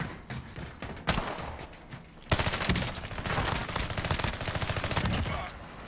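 Video game shootout gunfire: a sharp burst, another crack, then several seconds of sustained automatic fire rattling steadily, fairly loud and close.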